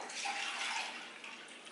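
Water pours steadily into a bowl for a moment, a soft continuous splashing hiss that fades slightly toward the end, heard alone.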